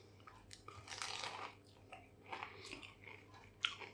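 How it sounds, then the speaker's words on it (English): Loud, close crunches from biting into a vegetarian spring roll dipped in sauce, several crisp bursts with chewing between them and no talking. "Listen to that crunch."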